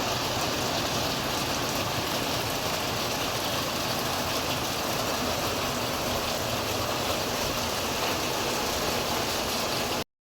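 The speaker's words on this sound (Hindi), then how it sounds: "एकदम तेज़ वाली बारिश स्टार्ट हो गई" Heavy rain pours down in a steady, even hiss that continues unbroken and alone at a moderate level, with no voices or other sounds.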